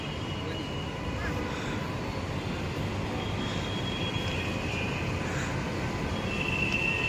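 A Bengaluru metro train rumbling steadily with a broad roar and a faint high squeal near the end; a voice speaks over the noise.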